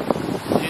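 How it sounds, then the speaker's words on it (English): Wind buffets the camera microphone on a beach by a resort in Mexico, coming in rough low gusts that swell and fade across a short stretch with no talking. "It's very windy."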